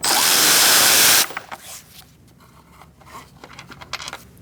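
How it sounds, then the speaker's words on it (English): A 13mm socket on an extension loosens a transmission mount bolt on a 2016-2019 Chevrolet Cruze 1.4L, opening with a loud second-long power-tool whir, then faint clicks and rattles of handling. "Using a 13mm socket and an extension, I'm going to take out this bolt."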